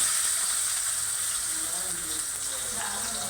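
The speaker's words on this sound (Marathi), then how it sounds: "आपल्याला आता कांदा घालायचा आहे त्याच्यामध्ये." Chopped onion sizzling in two big spoons of hot oil in a pot for a Kokani mutton curry, a steady close frying hiss throughout with faint crackles.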